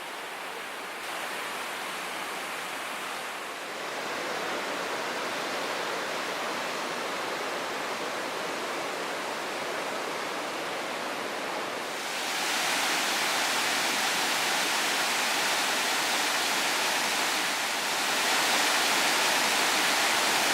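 Silver Falls pours down in a continuous, loud broadband rush of falling water, steady for about twenty seconds and swelling brighter and fuller partway through, with no voices.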